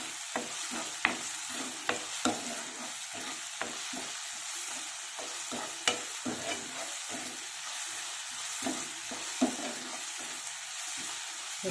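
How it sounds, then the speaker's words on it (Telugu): Ginger garlic paste fries in a pan with a constant soft sizzle, while a spoon stirs it with light, irregular taps and scrapes against the metal throughout. "1 స్పూన్ అల్లం వెల్లుల్లి పేస్ట్. బాగా ఫ్రై అవ్వాలి."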